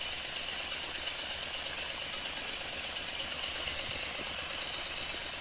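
Small steam engine running on compressed air from a portable tank, with a leaking fitting, giving a steady loud hiss with a fast, even mechanical chuffing underneath throughout.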